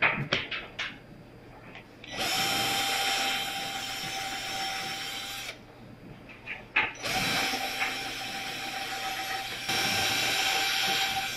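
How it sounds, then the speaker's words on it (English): A power drill bores hardware holes in a 1940s wooden school master's desk, running in several long, loud, steady bursts broken by short pauses and a few brief clicks. "I'm doing the holes for the hardware before I do my top coats with paint"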